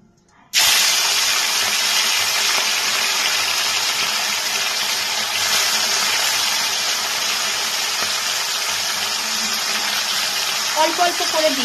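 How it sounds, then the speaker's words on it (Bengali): Small chuno fish frying in hot mustard oil in a wok, a loud continuous sizzling hiss that bursts in after a short quiet start and holds steady to the end, with faint crackles near the close. "মাছগুলোকে আমি ভেজে নিচ্ছি।"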